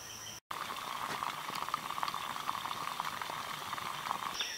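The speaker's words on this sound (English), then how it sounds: "You're going to simply boil that water." Water boiling outdoors while being made safe to drink, a steady close bubbling and hissing roll that continues without a break after a momentary cut near the start.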